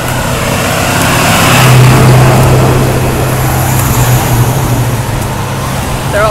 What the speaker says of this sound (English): There's so many cars, oh my god.